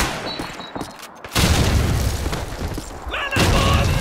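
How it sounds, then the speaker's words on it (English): Enemy grenade exploding in Call of Duty 2 on Xbox 360: after a brief lull, a loud heavy boom bursts in and rumbles on, followed by a second blast near the end amid continuing battle noise. "Look out! Enemy grenade!"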